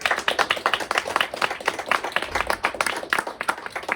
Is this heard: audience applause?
yes